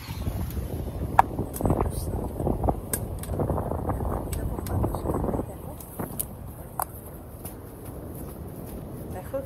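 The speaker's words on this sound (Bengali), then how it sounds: "দেখো কিরকম বাতাস" Strong gusting wind buffets the microphone outdoors around a house, a heavy, continuous low roar with louder surges in the first half and a few sharp knocks, while voices murmur faintly underneath.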